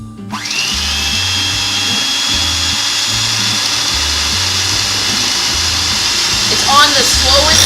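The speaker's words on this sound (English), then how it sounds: "I've got my electric mixer. So here we go." An electric hand mixer whirs loudly and steadily on its slowest speed while beating butter and sugar in a big bowl for biscotti, close up, with a faint beater scrape near the end.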